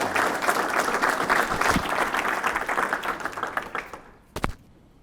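A room full of people at a Rotary career and technical education awards event bursts into applause for award winner Spencer, the dense clapping holding steady before fading to a few last claps.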